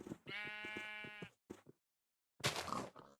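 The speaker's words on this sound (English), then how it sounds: "We got some sheep already." Sheep bleat in the Minecraft video game: one long, clear, close bleat, then a short bleat and a harsher burst after a silent gap, with no voices.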